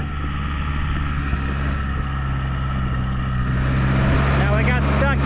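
A Ford 6610 tractor, used for manure spreading, drives hard through water puddles, its engine giving a loud, steady close-up drone that swells slightly toward the end.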